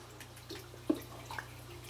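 Water drips in a Minecraft cave, one clear plop followed by a fainter second drip over a low steady hum.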